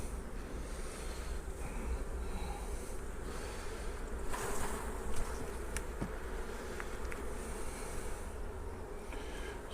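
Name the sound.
honeybees buzzing while being shaken off a hive frame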